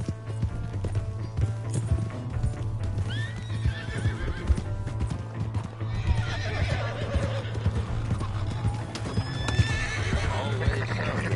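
A horse in a video game gallops with steady clip-clopping hooves and whinnies several times over a busy bed of game sound, loud and continuous, while people talk.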